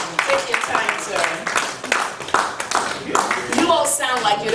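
An audience claps at a sports journalists' convention, with dense, sustained clapping and voices talking and calling out over it.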